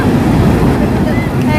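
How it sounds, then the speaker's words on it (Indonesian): Large ocean waves roll and crash at a crowded beach, a steady broadband surf roar mixed with wind buffeting the microphone, loud and continuous. "Lihat ombaknya gede banget."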